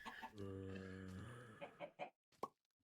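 A Minecraft chicken lets out a short run of clucks and squawks, close and clear, followed by a soft plop and brief game sounds in an otherwise quiet moment.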